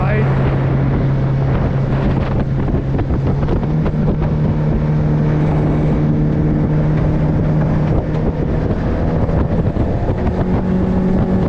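A Yamaha F115 outboard motor pushes a 1996 Jetcraft 18-foot center-console boat across the water, a steady loud engine drone with a sustained low tone, buffeted by wind noise on the microphone throughout.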